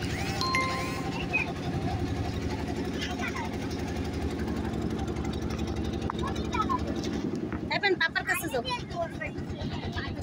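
A motorized trawler boat on the Ichamati river, its engine chugging steadily and close for most of the stretch, with people talking over the drone and chatter growing toward the end.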